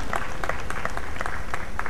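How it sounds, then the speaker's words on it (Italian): Crowd applause with whistles and cheers for Dedo and Massimo Daddoveri, Super 2000 class winners of the 2007 Rally delle Marche at Cingoli, a dense steady clapping close by throughout. "un bel applauso per Dedo e Massimo da Toveri"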